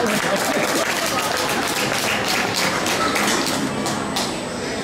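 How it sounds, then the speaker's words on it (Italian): Applause from a mall audience at a Miss Vesuvio beauty pageant prefinal in Naples: dense, steady clapping fills the space throughout, with some crowd noise mixed in, thinning slightly at the very end. "Intanto facciamo un applauso per queste attività."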